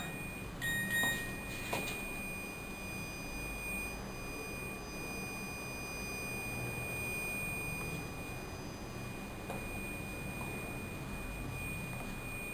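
A server room air-conditioning alarm buzzer sounds as steady high electronic tones, with a brief burst of beeps near the start over a constant room hum.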